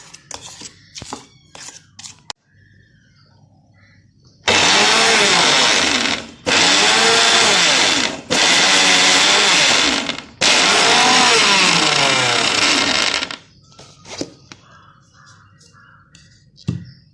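Mixer grinder blending peanuts into peanut butter, running in four loud, harsh bursts of a few seconds each with short pauses between them, set between quieter kitchen clatter.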